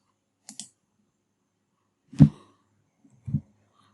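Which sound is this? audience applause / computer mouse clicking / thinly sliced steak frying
computer mouse clicking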